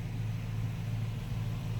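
A stock 2006 Dodge Charger R/T with factory exhaust idles steadily, a low, even rumble close by and alone.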